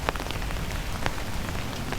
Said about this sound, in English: Rain taps against the fabric above your head.